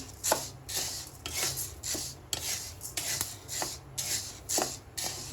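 Sorghum (jowar) grain dry-roasting in a pan, stirred with a steady rhythm of gritty rubbing scrapes and shuffling grain, repeating about once a second at close range with no talk.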